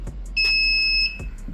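A security alarm panel sounds a short, piercing electronic tone lasting under a second, set against faint ticking clicks and a low hum.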